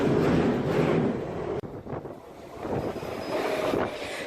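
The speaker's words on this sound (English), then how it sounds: "Now we come to the Victoria Line trains" A London Underground Victoria Line train, heard as a steady loud rumble and rush of wheels and air, with a brief sharp jolt partway through, close to the microphone.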